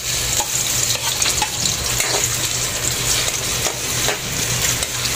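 Sliced ginger sizzling in hot oil in a pan while being stirred, a continuous loud crackling fry with occasional scraping stir strokes, no voices over it.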